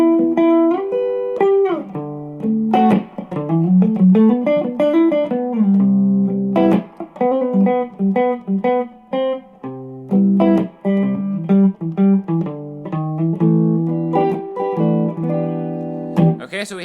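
A guitar strums a sequence of three chords, with short melodic solo licks and bends filling the gaps between them, played close, clear and fairly loud, with no voices.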